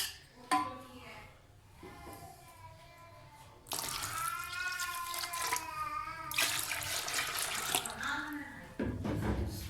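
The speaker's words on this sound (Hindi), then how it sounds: "अब हम इसमें और पानी डाल देंगे" Running water pours steadily into gram flour batter in a vessel, a continuous splashing stream that rises in pitch as it fills, with a brief pause midway.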